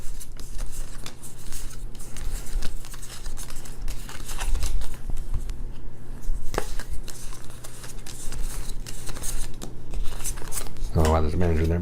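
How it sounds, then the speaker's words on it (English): Playing cards are dealt out in rounds of ten during the AdVenture Capitalist card game, a fast run of soft flicks and slaps on a table that continues throughout, with faint voices in the room. "We each get 10 more cards."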